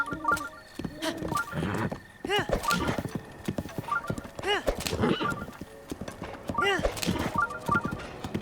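Video game horse hooves clip-clop in a quick rhythm while the horse whinnies repeatedly, close and lively, in The Legend of Zelda: Breath of the Wild, with a voice talking over it.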